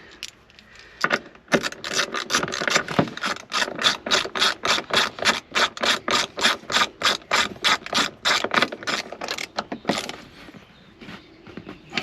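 Steady clicking of a ratchet tightening a bolt back onto a Subaru BRZ during a taillight install, with quick repeated strokes building into a long, regular rhythm before slowing to a few last clicks. The sound is close and alone.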